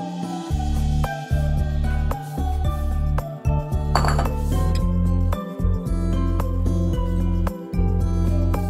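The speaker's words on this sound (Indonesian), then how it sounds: "Aduk-aduk sampai tercampur." Grated coconut stirred in a metal pot with a spoon, making a string of clinks, scrapes and clatters against the pot, heard close up over a steady low background hum.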